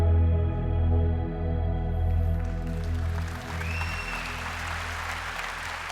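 An audience at a TeenStreet 2015 session applauds, a loud, dense wash of clapping that swells and then eases off while a sustained musical drone sounds underneath.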